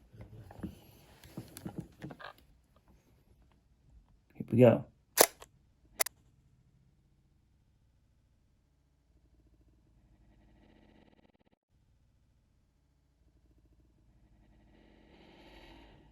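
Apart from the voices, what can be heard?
DSLR shutter press, mirror locking up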